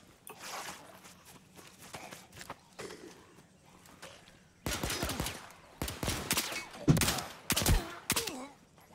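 Gunfire in the zombie shooter Overkill's The Walking Dead, scattered shots at first, then dense, loud volleys of rapid cracks in bursts near the end.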